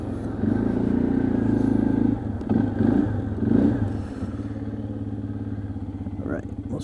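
Arctic Cat 500 EFI 4x4 ATV with a single overhead cam engine driving, a steady close engine drone that swells and eases with throttle changes, with clatter and a voice talking over it.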